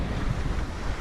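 Steady wind rushes across the microphone along with the wash of waves as a sailboat moves at about six knots in twelve knots of wind off the Tuscan coast. The sound is continuous and close, with no talking.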